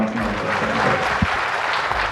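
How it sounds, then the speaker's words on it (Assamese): A seated audience claps loudly at an Assamese party representatives' meeting. The applause is dense and continuous and stays near and steady throughout, with a faint voice briefly underneath. "আপোনালোকৰ পৰা এটা হাত চাপৰি আমি বিচাৰিম"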